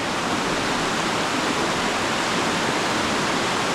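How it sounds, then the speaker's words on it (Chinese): Snowmelt water from the Tianshan mountains rushing along a stream in a spruce forest at Kurdening, Ili, Xinjiang, a steady, loud, continuous broadband roar with no pauses and no voices. "汇成了小溪。"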